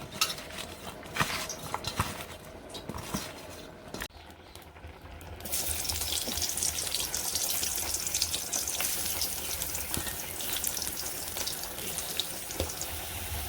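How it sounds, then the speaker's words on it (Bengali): Pumpkin slices and fish dropped into hot oil, shifting from quiet kitchen clinks to a dense, steady frying hiss that carries on evenly to the end. "এই যে সবগুলো দিয়ে দিছি আর আস্তে আস্তে ভাজটা হোক"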